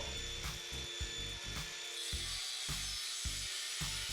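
A power grinder with a diamond blade whines and drones while cutting concrete, the blade biting rhythmically, producing a repeating pulsing cutting sound at moderate loudness.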